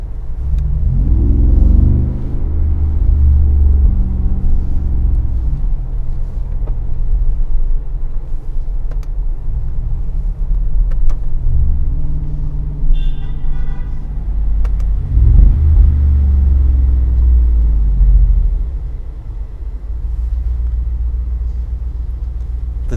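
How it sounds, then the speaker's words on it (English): Mercedes G63 AMG G-Class SUV with a V8 bi-turbo engine heard from inside while driving, a loud continuous low rumble that swells in several waves of acceleration and settles back, with no talking. "We are driving a V8 bi-turbo. And it feels very quick."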